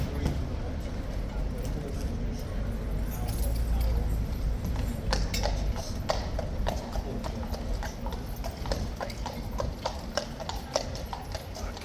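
King's Guard cavalry horses at Horse Guards in London clip-clop on hard ground with steady, overlapping hoof strikes, close and continuous beneath a murmuring outdoor crowd.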